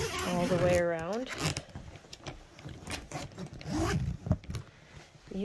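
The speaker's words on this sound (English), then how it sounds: "So if you open up this zipper" A suitcase zipper on an expandable luggage set rasps open in a series of quick pulls while someone speaks over it.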